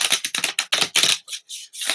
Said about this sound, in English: I'm really trying to get these shuffled good.